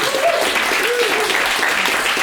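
An audience at an improv theatre show in Glasgow breaks into steady applause, a dense wash of clapping lasting a couple of seconds with a voice faintly audible underneath.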